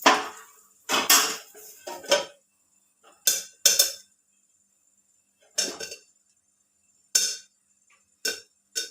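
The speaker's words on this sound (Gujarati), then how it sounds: "એકવાર બધા એમ હલાવી લઈશું જરા બધા એકદમ સરસ મિક્સ થઈ જાય" Popcorn kernels are stirred in a pot, giving short, loud bursts of rattling and scraping with quiet gaps between the strokes.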